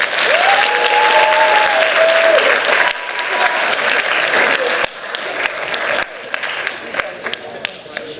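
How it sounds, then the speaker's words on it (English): Sustained applause from an audience at a hall of fame induction ceremony, loud and dense at first, then thinning into scattered claps toward the end, with a voice briefly audible early on. "Let's give him a round of applause."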